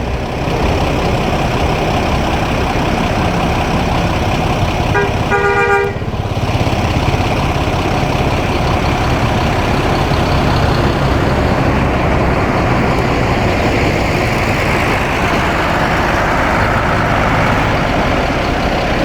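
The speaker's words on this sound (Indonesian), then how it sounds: "Kota Padang Pariaman masuk satu unit bus HSB hasil sepakat bersama yang juga akan menuju kota Jakarta dan sekitarnya" An HSB intercity bus with an Adi Putro Jetbus HD2 Plus body and a likely Mercedes-Benz 1526 engine rumbles loudly at a Padang Panjang terminal, its engine droning steadily, with a short horn blast partway through.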